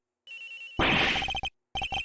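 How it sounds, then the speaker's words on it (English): A phone rings somewhere unseen during the plane murder case in Ace Attorney Investigations, a game electronic ringtone in a few short repeated bursts after a brief noisy swell, fairly loud and with no talk over it. "his phone's ringing from somewhere"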